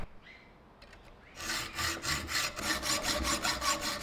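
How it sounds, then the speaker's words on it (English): Hacksawing and filing on the end of a steel bolt, worked into a letter shape for a wood burning stamp: a few soft scrapes, then steady rhythmic rasping strokes, close and fairly loud with no talk. "With a bit of hacksawing, then some filing"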